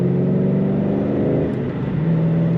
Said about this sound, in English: This car has a nice mean sound coming out the back as well